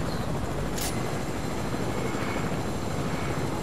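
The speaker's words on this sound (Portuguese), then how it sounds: "Eu literalmente não consigo ouvir nada por causa da caceta do helicóptero" Helicopter rotor and engine drone in the video game Fortnite, a loud, dense, continuous whirring rumble filling the whole moment with no speech.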